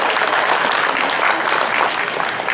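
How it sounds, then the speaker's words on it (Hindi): Loud, dense applause from an audience at a Hindi poetry recital (kavi sammelan), a steady wash of clapping filling the whole stretch without letup. "वो भी एक बार जोरदार तालियां बजाइए"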